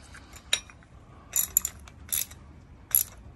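A bolt being tightened on a homemade mini carpet kicker gives a few sharp metallic clicks and ratcheting bursts spaced out over a few seconds, close by over a quiet background.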